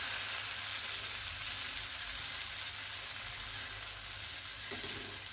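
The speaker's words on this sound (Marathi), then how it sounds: "आता आपण थोडंसं पळीवर बॅटर घेऊयात आणि असं तव्यावरती घालूयात." Corn batter hits a hot, oiled tava griddle and sizzles in a soft, even crackle that holds steady throughout, with a faint scrape near the end.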